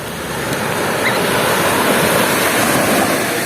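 Steady roar of sea waves washing onto a beach, loud and continuous with broad rushing noise and a touch of wind.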